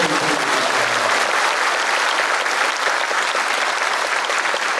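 Loud, sustained applause from an audience at a Korean martyrs' cantata performance, a dense steady wash of clapping for the whole stretch with no voices over it.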